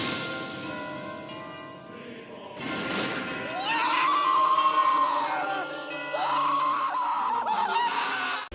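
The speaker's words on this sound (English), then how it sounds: "Oh my god, the fucking dub Armin scream." A character's drawn-out, high-pitched scream from the English dub of Attack on Titan rises and holds in two long wailing bursts over loud dramatic background sound.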